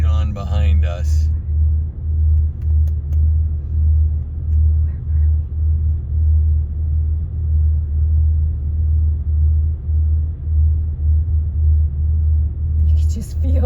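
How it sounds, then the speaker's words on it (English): A big semi truck rolls onto a Mackenzie River barge, heard as a deep, steady engine rumble with a pulsing low throb, close and loud, while voices briefly come in at the start and end. "So we are on the Mackenzie River barge, and that big semi is getting on behind us."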